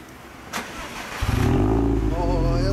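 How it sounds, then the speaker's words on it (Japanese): A Subaru Impreza WRX STI engine cranks and catches, then settles into a loud, steady rev up close, with a faint rising whine. "ほんならエンジン音聞かせてくれる？"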